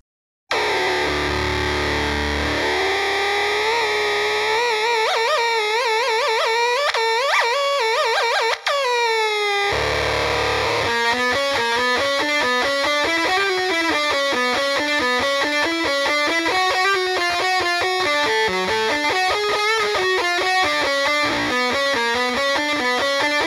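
Electric guitar played through a distortion preset with the drive at 50% and the gate lowered, giving loud sustained overdriven notes and controlled feedback, then a dense, rhythmic distorted riff running to the end, with no voice.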